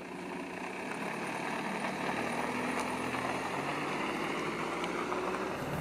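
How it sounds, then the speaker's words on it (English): A 2015/2016 Volvo XC90 D5 Momentum diesel idles steadily at a moderate distance, a soft, even hum with no voices over it. "You hear it from the outside, of course, it's a diesel."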